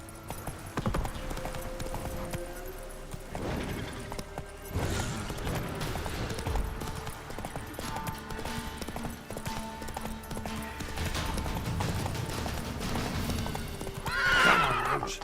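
Roach the horse gallops in a video game with rapid, steady clip-clop hoofbeats close by, broken by neighs and whinnies, the loudest near the end.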